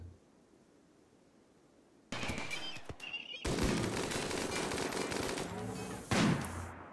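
Bursts of chain gun fire from the video game Rimworld, set in an extreme desert, break in after two seconds of near silence and continue as loud, dense rapid fire with one sharper blast near the end.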